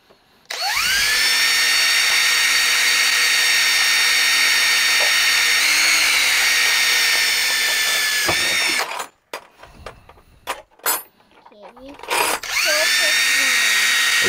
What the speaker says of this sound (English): Oh, look at it. I'm drilling.